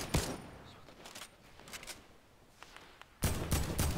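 AK rifle gunfire in Fortnite, scattered sharp shots and short bursts, some distant and faint, ending in a louder, closer burst, with no talking.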